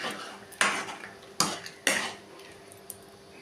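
A metal spoon stirring potato kurma curry knocks against a cooking pot three times in a slow, uneven rhythm, close and clear, followed by a faint tap.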